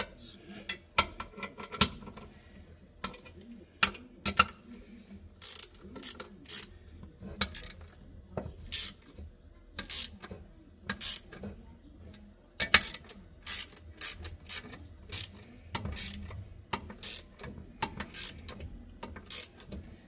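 A ratchet tightens bolts on an IH Scout Dana 20 axle: bursts of rapid sharp metallic clicks come in uneven runs at close range, with brief talk and metal clanks between them.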